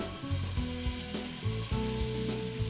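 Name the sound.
slices of smoked bacon frying in pan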